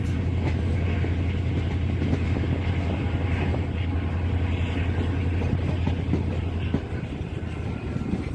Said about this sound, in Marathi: गाडी आता रुकडी रेल्वे स्टेशनवरून निघत आहे